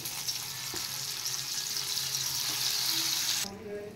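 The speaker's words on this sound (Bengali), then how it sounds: "এবার আমি একটা একটা করে বড়াগুলো ভেজে নেব।" Mung dal paste fritters (boras) frying in a little hot oil, a steady broadband hiss and crackle that holds for a few seconds and then drops off abruptly near the end, with no talking.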